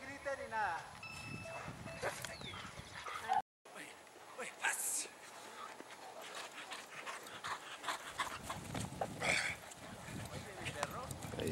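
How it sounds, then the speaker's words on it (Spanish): A dog pants and scrambles close by with quick padding steps and scuffles as it runs in to bite a decoy during bite training, while people talk intermittently in the background. "Ahí llega el perro."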